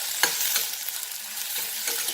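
Onions fry in a pan for Goan beef roast, giving a continuous loud sizzle with occasional stirring scrapes and crackles, heard close with no talking.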